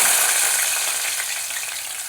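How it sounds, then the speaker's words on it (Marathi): Onion frying in oil in a kadhai, a loud, dense, continuous close sizzle with no voices. "कांदा टाकायचा"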